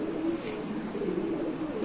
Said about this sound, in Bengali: ব্ল্যাক লেস শার্টিং কবুতর